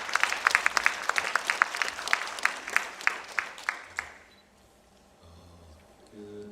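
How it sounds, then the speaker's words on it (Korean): Audience clapping at a 2017 international academic conference in Korea, a steady patter of many hands that fades out after about four seconds, leaving quiet room tone. "저 이제 오셨지만 박수 한번 받으시죠."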